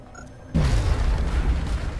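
A grenade blast in the turn-based tactics game XCOM Long War: a sudden loud boom with a heavy low rumble that rolls on and decays slowly, heard alone.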